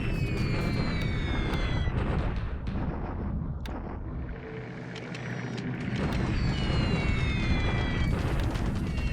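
Bombing in a Pacific war strategy game: deep rumbling blasts and booms roll on continuously with swelling low-end explosions and a brief quieter lull in the middle, no voices.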